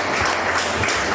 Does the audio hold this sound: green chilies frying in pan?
no